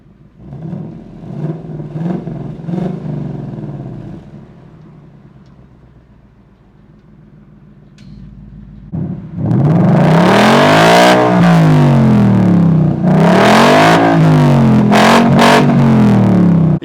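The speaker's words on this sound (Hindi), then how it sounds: "सो अभी ये मार्क 1 स्पेसिफिक एग्जॉस्ट है, end of course active valve exhaust है।" A 2023 Ford Mustang Mach 1 with an active valve exhaust idles with a low rumble, then revs hard several times in loud, rising and falling bursts, its note harsh and close.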